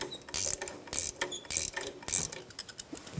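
A hand ratchet clicks in several quick bursts as bracket bolts come off under a 2015-2024 Jeep Renegade during an oil pan job, close and crisp, with short pauses between runs and no voices.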